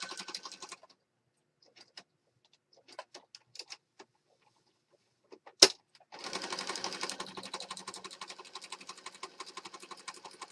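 A sewing machine stitches fabric scraps in short, quiet bursts of rapid ticking, then settles into a longer steady run after a sharp click.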